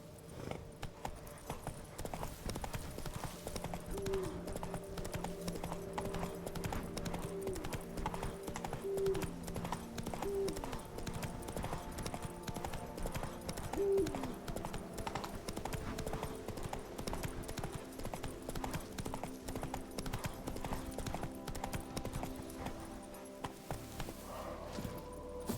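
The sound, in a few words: horse Roach galloping in video game The Witcher 3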